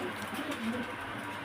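An Andalusian pigeon at a pigeon farm coos softly in low, murmuring pulses, faint against a steady background hiss.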